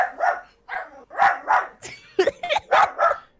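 A dog barks in a quick series of sharp, fairly close woofs and yips, irregular in rhythm, ringing out in an otherwise quiet indoor room.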